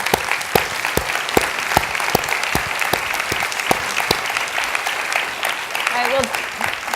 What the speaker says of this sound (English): please just give a huge round of applause for Art Acevedo.